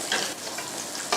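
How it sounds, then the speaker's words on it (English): Scallion and garlic sauté in a hot pan in a culinary workshop kitchen, giving a steady close hiss of sizzling with faint stirring scrapes throughout. "Some scallion, some garlic here. So I'm gonna saute this one."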